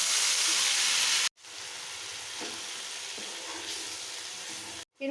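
Paste of ground onion and tomato fries in hot oil and ghee with whole spices, a loud, even sizzle and hiss that cuts off abruptly twice in brief silent gaps.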